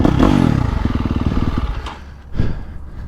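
A 2023 KTM 350SXF and a 2023 Yamaha YZ450 Monster Edition dirt bike ride off-road, with a loud, close engine drone that pulses and rises and falls, along with some clattering thumps.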